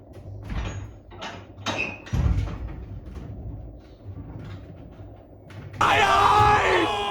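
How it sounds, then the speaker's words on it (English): A residential garage door opens in a home garage near the end, a loud rising broadband rattle and roll that follows a stretch of scattered knocks and handling noises. "Let me just open the garage door here."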